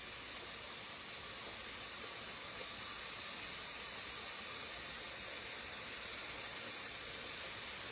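Homemade tortilla chips fry in hot oil with a steady, dense sizzling hiss that holds even and unbroken throughout, with no talking.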